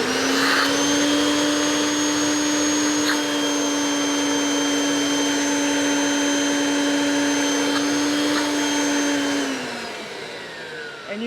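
A Kirby Sentria vacuum cleaner runs steadily on its second speed with the tool hose connected and the nozzle detached, giving a loud, close, continuous motor whine that drops away near the end.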